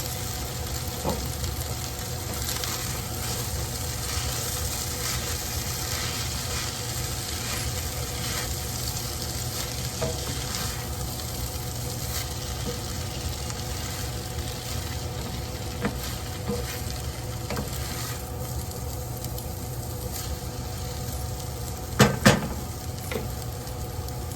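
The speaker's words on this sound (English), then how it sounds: "I'm going to get this just really stirred together." Noodles are stirred in a hot frying pan, giving a continuous close sizzle with soft scraping, and a couple of sharp clicks near the end.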